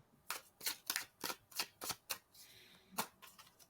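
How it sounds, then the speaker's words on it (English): Tarot cards being shuffled by hand, a run of about nine crisp riffling bursts in a steady rhythm, close and fairly quiet, with no talking. "as I was shuffling the cards"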